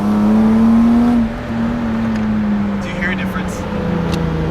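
BMW engine with a newly installed aftermarket intake, a steady droning hum heard from inside the car while accelerating, fairly loud and continuous, with faint voices briefly in the background.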